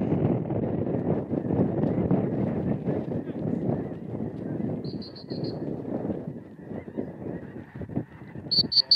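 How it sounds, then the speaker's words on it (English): Snow geese and specklebelly geese honking during a hunt, a thick chorus of calls close by under excited talk and shouting, with a few sharp bursts near the end. "we got geese all over us"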